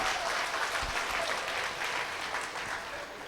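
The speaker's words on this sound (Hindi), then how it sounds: "ऐसा लगे एक बार जोरदार तालियों से इनका इस्तकबाल करिए" A crowd applauds warmly at an All India Mushaira poetry gathering in Siwan, steady clapping throughout that eases slightly toward the end.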